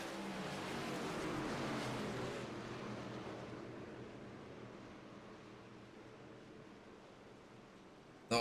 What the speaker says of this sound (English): Cars are going around.